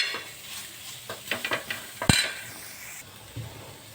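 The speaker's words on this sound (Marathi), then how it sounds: "तेलाने मस्त ते फ्राय होतात आणि एकदम छान लागते आपली भाजी. छान भाजला जातो कांदा." Onions frying in oil in a home kitchen pan for a chicken thali, with a steady soft hiss under scattered clinks and stirring scrapes and one sharp utensil knock midway.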